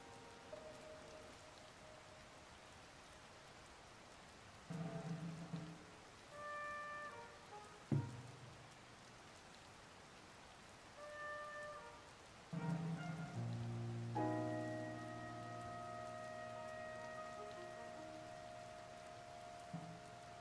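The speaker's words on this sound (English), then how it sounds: "poorly timed rain." Rain falls in the video game Tears of the Kingdom, a faint steady patter beneath game effects, with scattered chimes and tonal cues and a brief thump, no talking.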